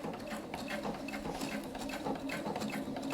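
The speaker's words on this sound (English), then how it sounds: "And I'm going to do that triple top stitch on top." A sewing machine runs a continuous, rapid mechanical stitching patter while triple top stitching along a bag zip, close and steady for the whole stretch, with no talking.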